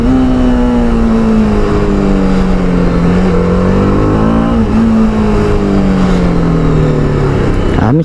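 A TVS Apache RR310 motorcycle accelerates hard, its loud engine note sweeping up and down through the gears in steady revving pulls, close and dominant for the whole stretch with no talk over it.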